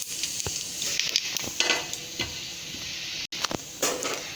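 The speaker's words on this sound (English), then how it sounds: "First of all, we have to heat up the oil and then fry the cumin." Cumin seeds frying in hot oil for a cabbage curry, giving a steady close sizzle with light crackles and a few spoon-against-pan clinks, alone with no voices.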